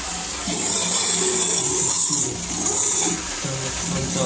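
Water gushing in a well, a loud continuous rushing and splashing that fills the space and dips only briefly, with no talk over it.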